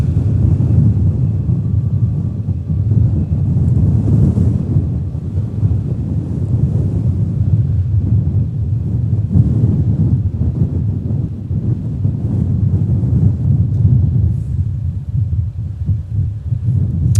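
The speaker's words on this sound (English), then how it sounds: "Winds are gusting well into the 20-plus knot range" Strong gusty wind at an airport, a loud low buffeting roar across the microphone that swells and dips throughout, with no voices.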